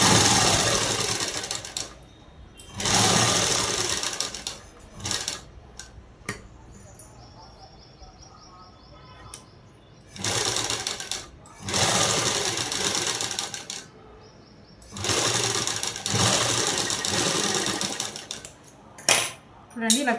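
A sewing machine stitching a blouse collar runs in several loud, steady bursts of a few seconds each, separated by quieter gaps with light handling clatter. It is heard close up, with no talking.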